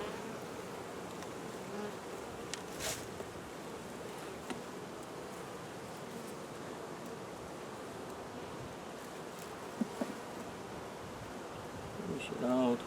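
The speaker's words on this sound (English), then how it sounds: "A lot of bees in there." Dense honeybee buzzing rises from an open hive box during a five-frame bottom board change, a steady close drone lasting throughout with a few faint knocks and a brief murmur of voices near the end.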